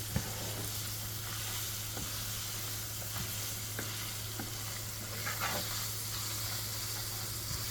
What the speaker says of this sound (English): I'm gonna go in with my garlic. And then I'm just gonna stir that in.